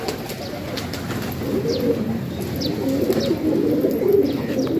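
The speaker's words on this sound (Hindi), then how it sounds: "ये आए हैं बहुत अच्छे कबूतर हैं" Pigeons returning to a loft keep up steady, close cooing with scattered chirps and calls over a busy low murmur of birds throughout.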